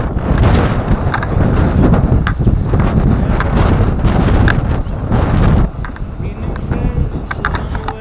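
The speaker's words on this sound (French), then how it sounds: "Un peu de vent aujourd'hui, ça fait du bien." Steady wind buffeting an outdoor microphone on a hillside hiking trail, a loud continuous rumble that eases slightly after a few seconds.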